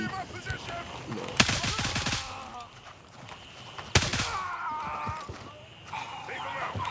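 Gunfire in the video game Gray Zone Warfare, two sharp loud shot bursts several seconds apart with rattling echoes trailing off, over low game ambience and radio-style talk.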